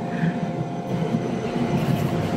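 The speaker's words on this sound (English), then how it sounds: "Look at this beautiful tram" A wood-panelled, varnished heritage tram on Melbourne's Route 35 city circle rolls along, a steady low rumble with faint clatter and hum, continuous and fairly close.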